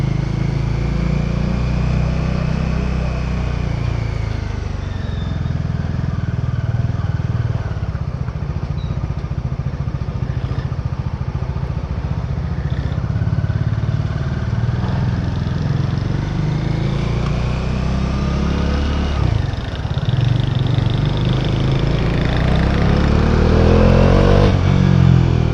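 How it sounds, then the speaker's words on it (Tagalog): A Bajaj Dominar 400 motorcycle engine drones steadily while riding, a loud continuous low rumble with mild swells in revs and wind, close and alone without talk. "Pag gusto mong paliparin yung Dominar, pwede mo rin talagang paliparin eh."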